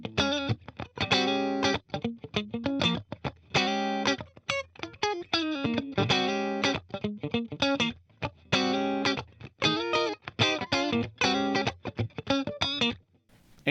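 Electric guitar played through a FET-style compressor pedal with the reverb switched off, heard as squashed, funky chords and stabs in choppy rhythmic bursts with short gaps, dry and up close, no talking.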